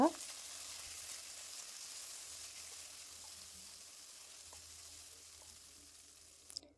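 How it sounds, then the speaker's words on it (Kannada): Curry leaves, ginger and garlic fry in hot oil for a ridge gourd ennegai, giving a steady, fairly soft sizzle and hiss that runs unbroken throughout, with a faint clink near the end. "ಎಣ್ಣೆಯಲ್ಲಿ ಎಲ್ಲವನ್ನು ಫ್ರೈ ಮಾಡ್ಕೊಳ್ಳೋಣ ಒಂದು ನಿಮಿಷ"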